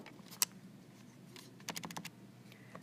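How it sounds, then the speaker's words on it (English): Quiet plastic button presses on a graphing calculator, a few scattered taps followed by a quick cluster of clicks near the end, close and faint in a still room. "if I type this into my graphing calculator"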